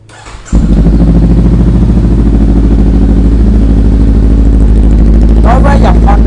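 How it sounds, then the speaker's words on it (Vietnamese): Honda CB500 motorcycle with an aftermarket exhaust starts up and settles into a steady, loud, close-up mechanical engine idle with a throaty low rumble and light clatter, running continuously after a brief quiet moment at the start. "Đối với dòng Honda CB500, CBR500 và C500X, 500S gì đó thì cái lực máy cho ra không quá là ồn với những lon bô độ nha"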